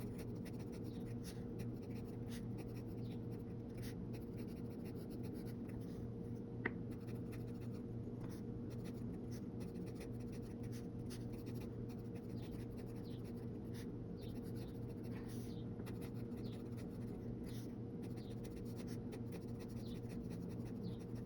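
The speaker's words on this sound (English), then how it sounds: "Now the Twsbi Eco has a little bit of feedback, but I kind of like more the way it writes." Twsbi Eco fountain pen writing on paper, a steady soft scratching with slight feedback running continuously over a low constant hum, close and quiet, with no talking.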